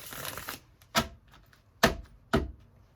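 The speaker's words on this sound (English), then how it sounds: "I usually will play with these clarifiers and just shuffle them as I'm meditating on your cards here" Tarot clarifier cards shuffled by hand in a quiet room, heard as a longer riffling burst at the start followed by three short, sharp card snaps spaced about a second apart, close and fairly faint.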